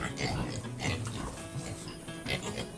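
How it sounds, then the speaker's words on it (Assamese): Piglets on a small village pig farm give soft, continuous grunting and oinking after feeding, close by, with mixed animal noise throughout. "এইবিলাক পোৱালি দানা খাই শুই আছে।"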